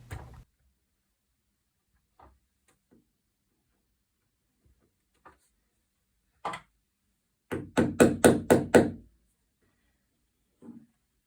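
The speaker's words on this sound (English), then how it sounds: "just kind of tap it in with the back of the screwdriver" A quick series of about six sharp taps in a steady rhythm, close by, as a wall anchor is tapped into a wall with the back of a screwdriver, preceded by a few isolated faint knocks.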